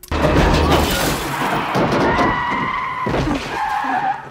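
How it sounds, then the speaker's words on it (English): Tyres skid loudly on a car in a film scene, a sustained screech with a heavy impact and rumble, loud and close throughout with no talk. "Ryan Philippe gets hit by a fucking car"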